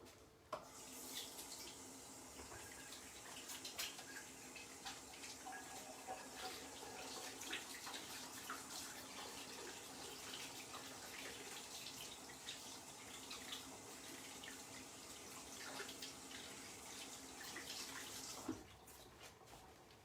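A kitchen tap runs steadily for about twenty seconds as hands are rinsed under it, a continuous broadband hiss with small splashing variations, fairly close and loud, before the water shuts off near the end.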